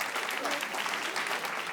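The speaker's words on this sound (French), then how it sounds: "magnifique, on peut les applaudir" A live audience claps steadily in a dense, continuous patter of many hands, fairly loud and close, with no pauses.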